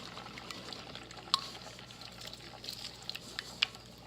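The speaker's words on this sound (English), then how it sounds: "So I'm actually going to whisk that in because there are eggs in there." A whisk stirs melted butter into a pecan pie filling with eggs, giving a faint, steady wet swishing with a few sharper clinks of the whisk against the bowl.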